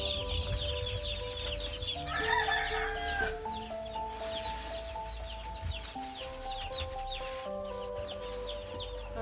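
Young chickens in a chick nursery cheep and cluck faintly against a steady background hum, with music-like tones running beneath.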